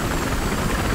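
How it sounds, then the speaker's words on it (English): A helicopter in the video game Battlefield Hardline gives a steady, close rotor-and-engine drone through the whole moment, with no break. "they got two helicopters"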